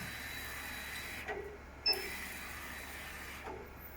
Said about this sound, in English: move the laser head left and right by control screen